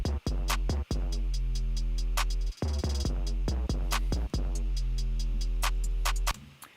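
Programmed drum loop playing in Ableton Live, its MIDI hits rising in velocity like a ramp, giving a steady, punchy electronic beat with dense repeated hits and deep kicks, loud and alone with no voices.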